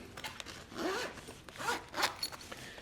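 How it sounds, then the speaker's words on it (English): Zippers on a PacPack backpack are pulled up, giving several quick raspy zipping strokes in bursts, close and clear against a quiet background, with no talking. "So if I bring these zippers back up here"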